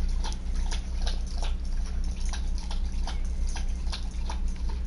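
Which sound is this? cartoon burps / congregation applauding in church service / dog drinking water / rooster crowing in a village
dog drinking water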